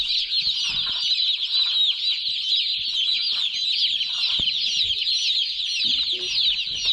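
A flock of broiler chickens chatters and clucks continuously nearby, a dense busy chorus with a few brief low knocks and rustles.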